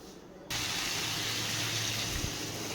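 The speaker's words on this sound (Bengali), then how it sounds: "এবার আমি পরিমাণ মতন জলটা দিয়ে দিচ্ছি।" Water poured into a pan of spiced gaathi kochu (taro) curry being cooked for hilsa, a steady gushing pour that starts abruptly and runs on evenly and close.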